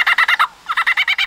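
A lyrebird mimics a kookaburra's call: a loud, close run of rapid, evenly spaced cackling bursts, a short pause, then the rhythmic laughing resumes, with no other sound around it.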